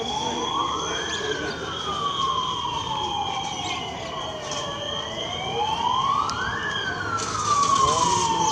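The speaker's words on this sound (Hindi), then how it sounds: "दमकल की गाड़ी, देख सकते हैं मौके पर जो फायर डिपार्टमेंट जो है वो अभी प्रेजेंट हुआ" Fire engine siren wails in slow rising and falling sweeps as the fire department arrives at a disaster mock drill, loud and steady over rumbling traffic and crowd noise.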